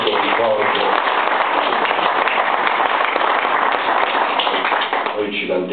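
Steady, dense audience applause at a book presentation event fills the room loudly and evenly, continuing throughout before easing slightly near the end.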